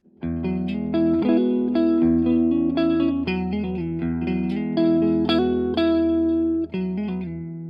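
Clean electric guitar through a Rajani VOD-50 amp with bass and treble cut for a mid-heavy tone, strummed chords and single notes ringing continuously, close and fairly loud, without any voices.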